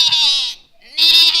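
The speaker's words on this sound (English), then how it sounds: "Bro is a literal goat." Goat bleating with a sheep-like quality, two loud drawn-out calls close by, split by a short pause, with no talk over them.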